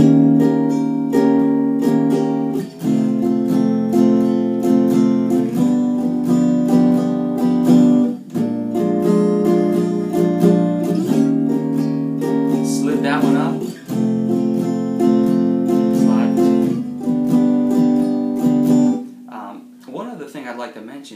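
A guitar strums movable barre seventh chords in a swing rhythm, the chord changes coming every few seconds, loud and close, with no talking, and it rings out at the end.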